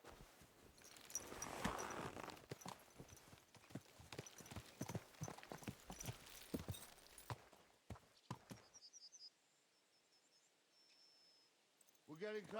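Horse hooves clip-clop steadily in the medieval game Kingdom Come: Deliverance II, a dense run of walking hoofbeats mixed with game ambience and a voice, before the sound drops to quiet with faint birdsong near the end.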